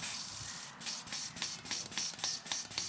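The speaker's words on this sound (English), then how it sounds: "I'm gonna spray out the excess" An airbrush blows out leftover paint after coating a small crawfish fishing bait, giving about seven short, close hissing spurts in a quick, regular rhythm.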